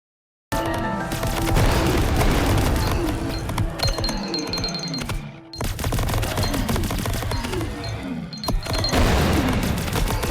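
A grenade goes off in the game Greedland, heard as loud blasts and gunfire crackling on and off for several seconds, with a short lull partway through and then the din starting again.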